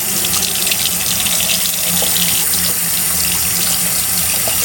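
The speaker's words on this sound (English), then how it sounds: "I always wash this in between, and then I'm going to rinse it." A makeup sponge being rinsed under a running tap: loud, steady rushing water close by, filling the whole stretch without a break and with no talking.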